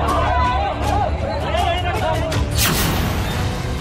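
Loud, dense crowd hubbub at a street protest in Lucknow over a minor's death, many voices shouting and chattering together, with a brief burst of louder noise near the end.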